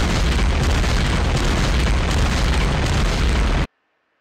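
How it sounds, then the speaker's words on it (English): Mortar shells explode in the wargame Steel Panthers: World at War as a loud, dense, continuous roaring blast that cuts off abruptly into silence. "You would have got hit with mortars anyway."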